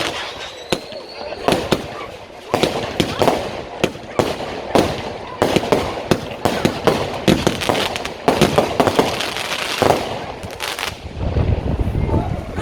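Repeated sharp crackling bursts and pops from spinning firework cakes, irregular rapid volleys going off outdoors, loud and close with some hissing between.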